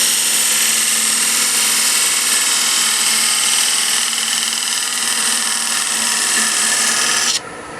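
A power tool sands a wooden peppermill blank on a lathe, a loud continuous whirring and abrasive rasp that holds steady before cutting off abruptly near the end.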